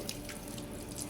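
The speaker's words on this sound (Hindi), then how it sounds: "पाइप के साथ अच्छी तरह से नहला दिया" Water from a hose pipe splashes steadily over a sacrificial animal being washed outdoors, a constant hissing spray with faint patters and drips, heard alone without voices.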